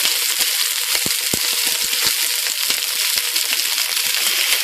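Food caramelizes and sizzles in a pan, giving a dense, continuous frying hiss broken by scattered sharp pops and crackles, close and steady throughout.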